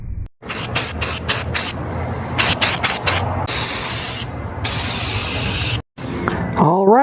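Aerosol can spraying primer coats onto a bicycle frame from a girl's mountain bike being converted to a 26-inch BMX, with long sustained hissing bursts separated by short pauses and one brief silence, close and loud.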